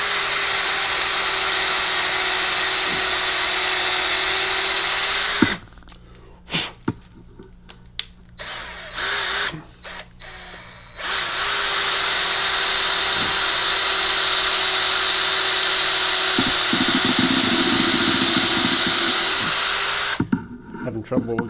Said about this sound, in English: I'm going to drill 3 holes right next to each other